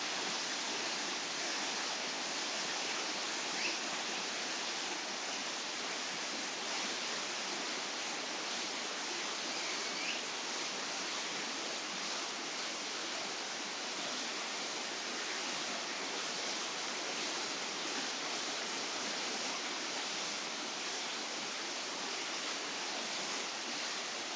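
River water rushes and churns through a narrow gap between polished rock formations in San Agustín, Huila, a steady broadband roar that stays loud and unbroken throughout, with no voices.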